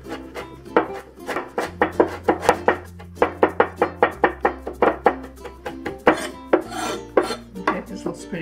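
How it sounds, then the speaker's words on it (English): A knife minces ingredients on a wooden board for Sichuan-style dry braised shrimp with crispy pork, with quick, crisp chops in uneven bursts, close and fairly loud, and no talking. "I'm just mincing them together."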